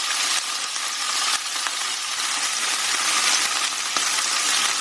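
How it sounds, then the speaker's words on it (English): Prawns searing in a hot frying pan for a shrimp stir-fry give off a steady, loud, close sizzle with a few faint clicks and taps, with no voices. "I'm going to let these prawns cook on one side till it changes colour."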